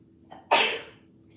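A single sharp sneeze bursts out close by after a small intake of breath, loud and brief in an otherwise quiet room during a gentle yoga session.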